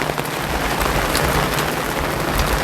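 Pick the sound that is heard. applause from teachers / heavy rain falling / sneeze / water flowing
heavy rain falling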